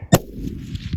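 A single sharp shot rings out from a deer hunting gun during a whitetail hunt, loud and close, followed by a short fading rumble outdoors.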